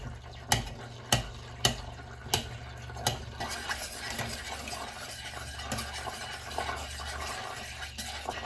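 Spoon knocking and scraping in a pot of rendering fat as chunks are broken up and stirred: several sharp clanks early on, then steady scraping and soft sizzling, close and alone.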